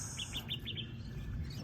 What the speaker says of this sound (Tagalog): yung mga ibon na lang ang maingay rito